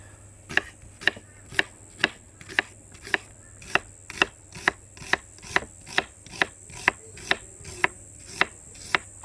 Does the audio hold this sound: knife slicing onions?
yes